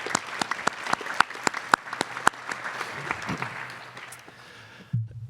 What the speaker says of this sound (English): So a round of applause for everyone who's here with us tonight.